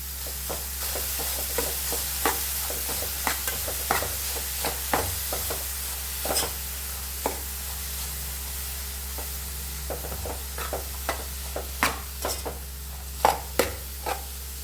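Papaya thoran with turmeric and salt is stirred in a pan, a spoon scraping and tapping at irregular intervals over a steady low hum and faint sizzle.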